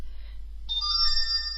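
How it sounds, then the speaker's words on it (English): A phone ringtone starts abruptly and sounds a bright, sustained electronic tone, close and clear in a quiet room. "There goes my phone"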